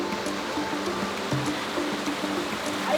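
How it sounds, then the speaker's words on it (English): A waterfall in the fog on a Vietnam mountain roars with a loud, constant wash of falling water. Faint scattered clicks and tones sit under the rush, and no one speaks. "And here is the waterfall."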